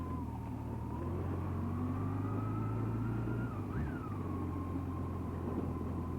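Engine of a 2006 Yamaha FJR1300A motorcycle idling along in second gear while riding, a steady low drone with a brief pitch dip and recovery midway, constant and moderately loud without talk.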